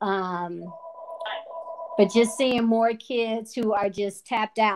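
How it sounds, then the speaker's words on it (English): A phone rings briefly with a steady electronic double tone near the start, after which a person keeps talking over it. "Sorry for my phone ringing."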